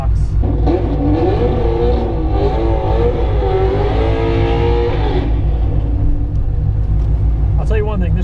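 Supercharged LSA car accelerating down a drag strip, a loud, close engine rising in pitch through steady revs before easing off, with a voice talking over it toward the end.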